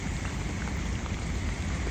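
Heavy rain pours down outdoors in a steady, loud, unbroken hiss of dense drops hitting the ground and surfaces, with no voices.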